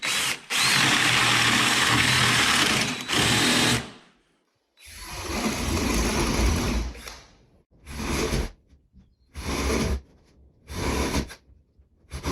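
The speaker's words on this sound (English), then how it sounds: "paddle bit and drill a hole on each one of these marks" A power drill with a paddle bit bores holes through plywood in several loud, close bursts, one long run followed by shorter ones separated by brief pauses.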